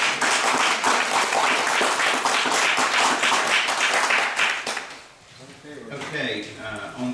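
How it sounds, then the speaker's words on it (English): A room of people at a town council meeting gives a sustained round of applause for the town clerk, dense close clapping lasting about five seconds before fading into conversational voices. "Give her a round of applause."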